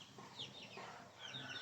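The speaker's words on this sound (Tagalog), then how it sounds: "Muna yung akong alaga nga manok." A pet chicken gives a few soft, brief clucks, faint and close in a quiet outdoor setting.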